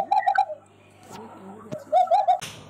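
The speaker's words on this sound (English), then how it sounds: "Cooing of the dove," A dove coos in short rhythmic phrases, two clear bursts separated by a quieter gap, heard close and alone.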